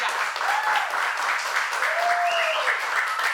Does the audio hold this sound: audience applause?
yes